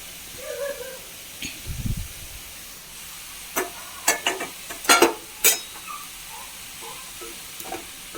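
Long beans stir-fried with grated coconut cook in a pan with a low, steady sizzle. Scattered scraping and clinking stirs come and go over it.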